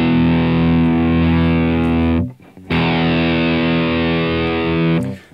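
An electric guitar runs through a rock distortion preset on an Antelope Zen Go Synergy Core interface. Two long, loud sustained distorted chords ring out, separated by a brief choked gap, and the second fades at the end.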